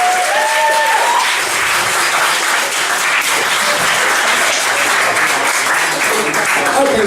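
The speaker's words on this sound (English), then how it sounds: "Big round of applause," A comedy club audience applauds loudly and steadily, dense clapping mixed with some cheering and crowd noise filling the room from close by, sustained without a break.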